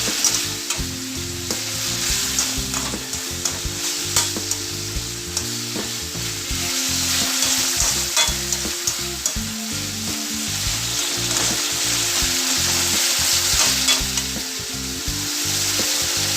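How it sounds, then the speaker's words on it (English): Beef in black bean sauce sautés in a hot pan for a Chinese-style bitter melon dish, giving a loud, steady sizzle broken by repeated scraping and stirring strokes throughout, with no voices. "I'll allow it to saute for another minute or so"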